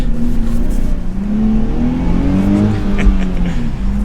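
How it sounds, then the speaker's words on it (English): A manual Nissan Z sports car engine revs close by, its tone climbing and dipping through the gears in a steady throaty drone, with no talking. "So there is my final drive now in the manual Nissan Z."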